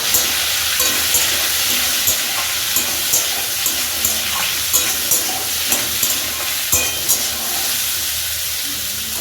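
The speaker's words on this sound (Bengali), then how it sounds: "এবার আমি এর মধ্যে পরিমাণ মতো জল দিয়ে দেব জল দিয়ে দিয়েছি" Vegetables for Bengali dudh shukto sizzle in a pan as water is poured in, a loud steady hiss and bubbling with periodic soft stirring clinks, no talking.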